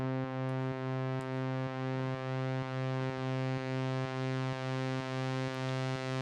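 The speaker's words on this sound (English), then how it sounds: "look at the sound design I got on this pad here." Heavily automated synthesizer pad built in Serum, a sustained, bright tonal chord that throbs with a regular pulsing rhythm throughout, loud and alone.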